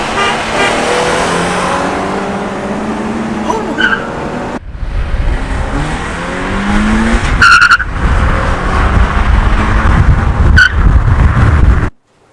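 A Scion FR-S with a carbon fiber hood accelerates hard and loud, its engine note climbing repeatedly and cutting briefly at each gear change, with a short tire chirp along the way.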